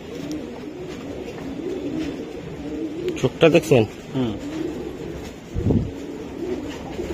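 Racing pigeons coo softly and continuously while someone talks over them nearby, with a few brief knocks and scuffs partway through.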